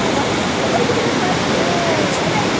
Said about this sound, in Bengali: জল একদম ফুটে গরম হয়ে ধোয়া হয়ে বেরোচ্ছে